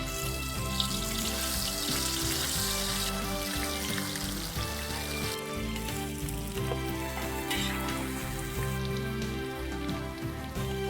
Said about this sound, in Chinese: 排骨下锅炸啊！